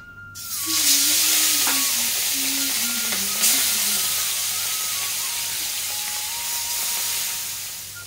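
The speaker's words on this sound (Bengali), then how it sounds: "তো চলো এখন মাছগুলো ভেজে নিই" Fish pieces fry in a pan in a home kitchen, a loud, dense sizzle that bursts up as they go in and then hisses on steadily, with a faint tonal hum underneath.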